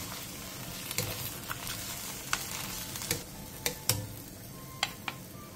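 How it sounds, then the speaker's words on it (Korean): Anchovy broth bubbles over high heat in a pan, a faint, quiet simmering hiss dotted with scattered sharp pops and ticks. "5분 뒤 멸치육수 한 컵 반을 넣고 센 불에서 끓여주세요."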